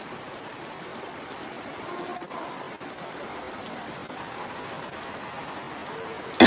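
Steady rain falls outdoors at a construction site in Surabaya, making a soft, even hiss of drops on surfaces that runs unbroken, fairly quiet and close, with no voices and a sudden bump at the very end.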